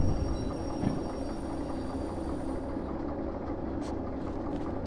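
A very long train rumbling along the track in the railway simulator game Derail Valley, a steady low droning roll with faint higher creaks, continuous and moderately quiet.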